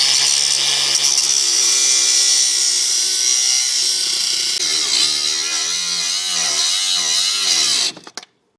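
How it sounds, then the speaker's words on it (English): A loud, high-pitched power tool grinds continuously for several seconds cutting off a ball joint rivet, its whine wavering under load before cutting out abruptly. "I'm just going to cut this front rivet off completely"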